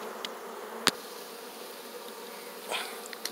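A steady low hum of honey bees buzzing around a hive in a termite nest fills the background, with a few sharper taps and brief louder passes close by.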